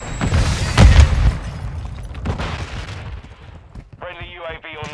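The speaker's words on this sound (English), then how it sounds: "set a charge on the target and detonate it" A set charge detonates in Modern Warfare 2 with one loud, close boom followed by a rumbling tail and scattered gunfire, while people talk toward the end.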